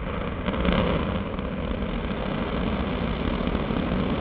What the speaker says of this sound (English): We have liftoff of the Antares vehicle for the Orb 1 mission